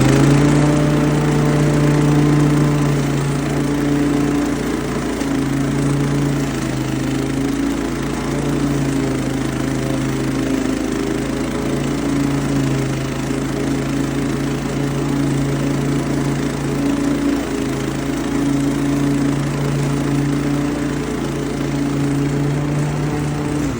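A Scag 30-inch push lawn mower runs close and loud while mowing grass, its engine holding a steady unbroken drone throughout with no voices.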